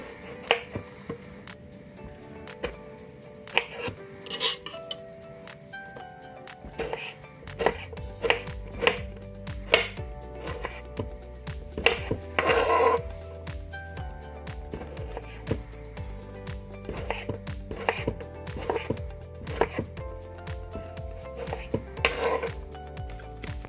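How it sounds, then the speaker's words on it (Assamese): Tomatoes chopped with a knife for a fish curry, a long run of irregular close taps and knocks on a cutting board, quiet at first and busier later. "আৰু মই এতিয়া বিলাহী কাটিম।"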